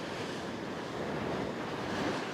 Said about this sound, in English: Oh, here comes another bit of a wave.